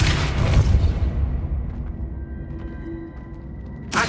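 A Depulso force-push spell goes off in Hogwarts Legacy as a loud, dense boom up front, then a roaring tail that thins out, with faint tonal shimmer and a short burst again at the very end.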